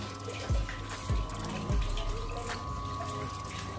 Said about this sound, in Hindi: दोस्तों आप देख सकते हो सारा पानी इसके अंदर कलेक्ट हो रहा है।